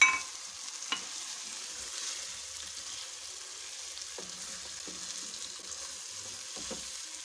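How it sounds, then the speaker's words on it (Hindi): Fish pieces frying in a pan of cooked tomato-onion masala give off a faint, steady sizzle, with a few soft spatula knocks scattered through. "तो अब हम इसमें फ़िश को ऐड करेंगे और हम इसको भून लेंगे।"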